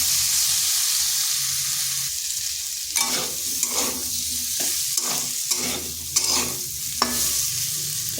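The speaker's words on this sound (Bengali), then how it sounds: "পাঁচ থেকে 6 মিনিট এইভাবে নেড়ে চেড়ে ভেজে নিচ্ছি" Chopped kohlrabi stir-fried in a pan, a steady sizzle at first, then a series of distinct scraping and tossing strokes at a quick, uneven rhythm over the hiss.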